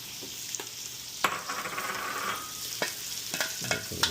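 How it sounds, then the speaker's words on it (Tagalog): Onion and garlic sautéing in a pan for pansit, a steady sizzling hiss broken by a few sharp spatula knocks against the pan, close up with no talking. "ngayon pa lang natin igigisa ang sibuyas at saka bawang"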